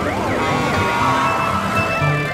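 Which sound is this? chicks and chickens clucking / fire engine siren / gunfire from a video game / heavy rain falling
fire engine siren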